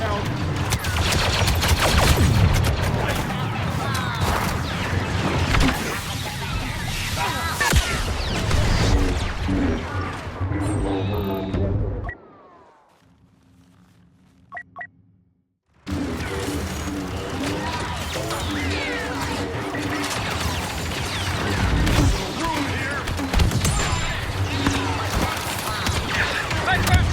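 A grenade blast amid heavy combat in Battlefront 2 with a heavy-class soldier, loud gunfire and crashes cutting out into a brief near-silent gap before the battle noise resumes, with voices talking over it.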